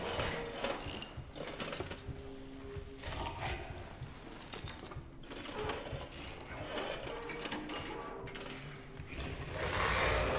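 Mechanical ratcheting and clanking as bolts are removed in the horror game Amnesia: The Bunker, a steady run of metallic clicks and grinding over a dim industrial hum, with no talk.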